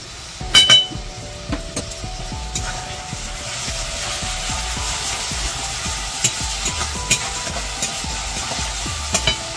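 Spice masala stir-frying in a pan with a little water and sugar for palak paneer, a steady low sizzle under repeated scraping stirs and occasional sharp clinks of a spatula, close and moderately loud.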